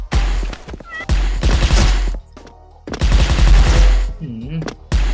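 Gunfire in the online shooter game Special Force: loud, dense bursts of automatic fire that stop briefly in the middle and then resume, with other game sounds mixed in.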